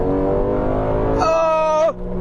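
A V8 sedan engine revs up with its exhaust valves opening, a loud, smooth rising roar close by that swells for about two seconds before cutting off sharply.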